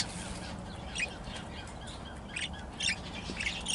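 A breeding pair of pet birds, one a harlequin recessive pied and one split to recessive pied, gives a few short, faint chirps and tweets at scattered moments over a low steady background hiss.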